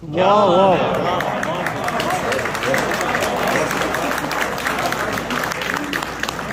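An audience at a mushaira breaks into loud applause and cheering that swells at once and keeps going steadily, with a voice speaking over the clapping at the start.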